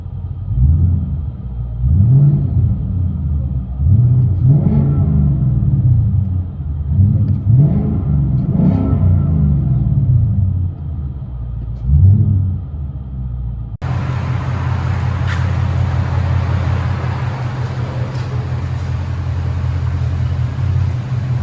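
A powerful Ford Mustang GT 5.0L Coyote V8 with a loud aftermarket exhaust revs in several sharp bursts up close, then settles into a steady, deep rumbling idle heard from inside the car.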